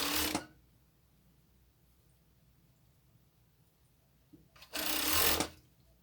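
A sewing machine stitches an oval seam on a crop top in two bursts, a short run at the start and a longer, louder run near the end, with quiet in between.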